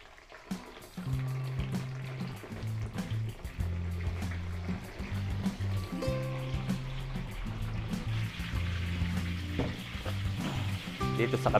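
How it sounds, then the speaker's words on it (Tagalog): Embutido sizzles as it fries in hot oil, a steady crackling hiss that runs throughout, with clinking of utensils and a person speaking over it. "Iprito tayo dito ng embutido."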